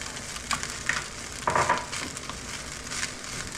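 Fried rice frying in a pan at breakfast, soy sauce just added, with a steady broadband sizzle and a few scraping stir strokes rising above it, close and moderately loud, no talking.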